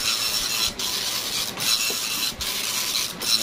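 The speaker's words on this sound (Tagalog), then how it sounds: "Nagpa-print naman siya guys, yan." An Epson LX-310 dot matrix printer prints nearby, a harsh buzzing rasp in passes of about 0.8 seconds, each broken by a brief pause as the head returns.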